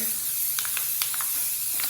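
Aerosol spray paint coating a white poster board black, heard as a steady close hiss with a few short sharper bursts as the nozzle is pressed.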